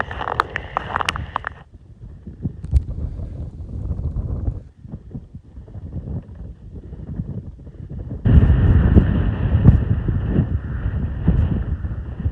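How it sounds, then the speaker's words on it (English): Strong Arctic wind buffets the microphone in broad, roaring gusts, easing briefly in the middle and then returning louder and sustained for the last few seconds, with no voices. "It's windy and miserable, but manageable right now."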